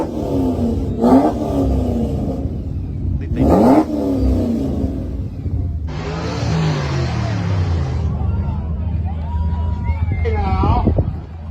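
A race car engine revving at a track event, loud and nearby, with sharp rising throttle blips and a sustained roar, heard under people talking throughout.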